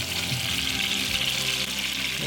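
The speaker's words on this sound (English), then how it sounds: "Frying up the little brookie." Brook trout sizzles and crackles steadily in a hot pan, a continuous bright frying hiss with no voices.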